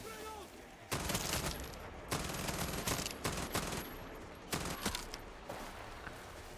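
Rapid automatic gunfire in the video game Far Cry 6, dense sustained bursts of shots with brief gaps, loud and continuous throughout with a voice talking faintly underneath.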